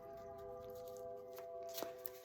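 A few soft, close card riffles near the end, quiet against a steady humming background tone.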